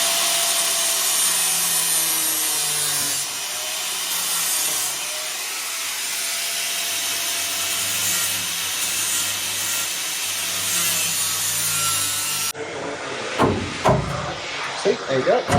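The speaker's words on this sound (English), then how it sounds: "use the grinding disc or a flap disc just to take that material down and then just prise it off" Grinding disc working down steel rivets on a Land Rover Defender side window, a loud continuous abrasive whine for about twelve seconds, then it stops and scraping and knocking follow.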